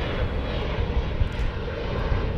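Airbus A380 airliner engines roar at Chicago O'Hare airport, a loud, steady broadband rumble that holds without a break.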